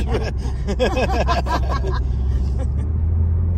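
A Renault Megane RS engine hums with a low, steady drone as people talk over it inside the car.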